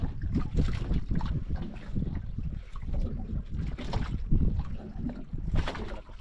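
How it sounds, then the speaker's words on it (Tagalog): Strong wind buffets a small fishing boat at sea near an island, a continuous roaring rush with gusty surges and low rumbling across the whole stretch, with no voices. "Lakas pa rin yung hangin dito mga idol"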